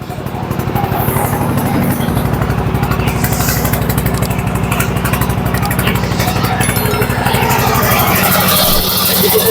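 A tourist boat engine rumbles and clatters steadily on Kaptai Lake, loud and close with a fast regular throb, and a voice talks faintly underneath.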